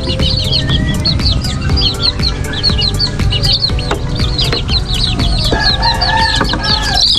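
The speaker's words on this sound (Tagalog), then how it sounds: "Ito po ang aking binobrooding ng mga sisiw. Mayroon po ditong dalawang sisiw ng pabo. Saka ito puro sisiw na ng manok." Chicken chicks and two turkey chicks in a brooder, a steady chorus of high peeping and chirping up close with no talk over it.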